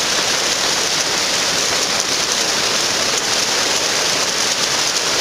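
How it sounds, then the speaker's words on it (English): Steady rain falling, a dense even hiss that holds at constant loudness throughout with no other sounds and no voices. "it has just started raining"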